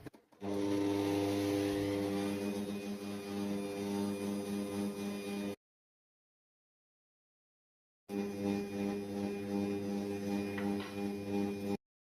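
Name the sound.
whipping egg whites with a mixer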